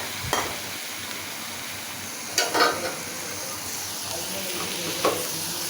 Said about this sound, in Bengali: চিংড়ি মাছ দিয়ে একটু ভালোভাবে কষাই নিব